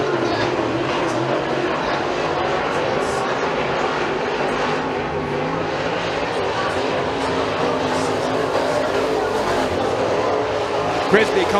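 Dirt track race cars at a county raceway heat roar wheel to wheel in a dense, steady wall of engine noise, loud and sustained throughout, with a commentator talking over it.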